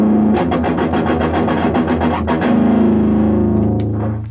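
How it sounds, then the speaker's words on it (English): Heavily distorted electric guitar through a Peavey Windsor amp at high gain, with thick crunch, chugging rhythmic chords that ring out loud and sustained at the end. "this is as much gain, as much distortion, as much anything as you can get"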